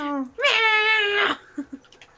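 A cat gives a drawn-out, wavering meow, preceded by a shorter cry and followed by a couple of faint soft sounds in an otherwise quiet room.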